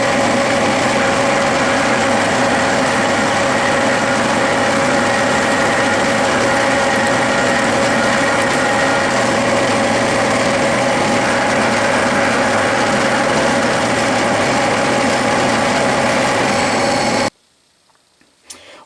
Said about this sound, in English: That is a 47/64 drill bit, and then I will ream